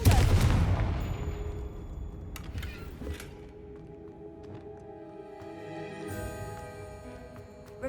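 A single loud blast from the Confringo spell in Hogwarts Legacy erupts at the start and decays into a long rumbling tail, followed by quieter magical chimes and ambient game tones.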